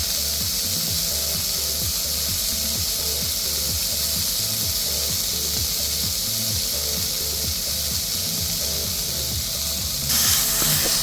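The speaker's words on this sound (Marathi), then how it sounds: "आणि हे गरम गरम वरवंटाच्या साहाय्याने बारीक करून घ्यायचं।" A stone grinding pestle crushes a hot green pea mixture for thecha. It makes rhythmic, repeated scraping and grinding strokes, loud and close throughout, with no voices.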